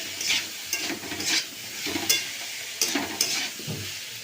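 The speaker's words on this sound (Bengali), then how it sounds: "ভালো করে তরকারিটা কষিয়ে নেবো" Curry with spices being sautéed in a pan, a steady close sizzle broken by repeated scraping strokes of a spatula, no voices.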